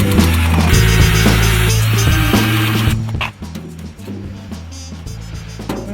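A power driver runs loudly, whirring as screws go into a mount on a Hobie kayak trailer, then cuts off, leaving a few quieter clicks and knocks.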